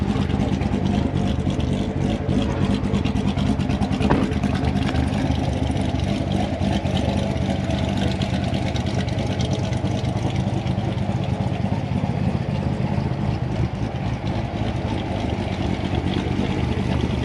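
Chevrolet C7 Corvette with a newly installed RPM cam, its engine running steadily and loudly close by for the whole stretch, a constant dense rumble with no pauses or talk.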